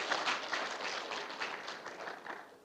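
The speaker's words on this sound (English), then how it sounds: "Shall we give them a round of applause," Audience at a forum in Gombe giving a round of applause, a soft, even spread of clapping that tapers off toward the end, fairly distant and with no talk over it.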